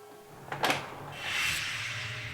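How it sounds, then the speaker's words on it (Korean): A VIP room door opened carefully, a short click followed by a soft sliding, creaking sweep, quiet and close over a low background hum, with no talk. "귀빈실 문을 열고 조심스레 들어가는 순간"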